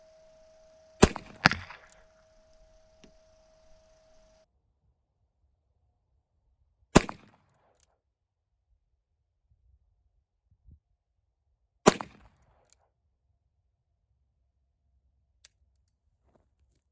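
Ruger Blackhawk revolver firing 45 ACP rounds: three sharp, loud single shots spaced several seconds apart, the first trailed by a quick metallic ring, then a faint click near the end.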